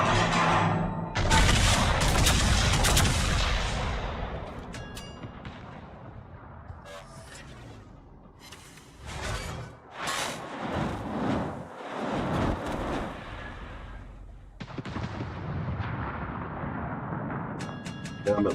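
Naval guns firing in World of Warships, loud booming salvos and explosions in repeated bursts with rumbling gaps between them, dense battle noise throughout.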